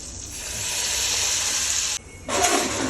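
Hot tempering (vaghar) poured into handvo batter gives a loud, steady sizzling hiss that cuts out briefly and then flares up again, close and with no talk over it.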